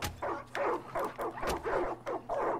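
Several dogs in Far Cry 5 bark and whine in repeated close bursts, about six yelping barks spread over a few seconds with game background hum underneath.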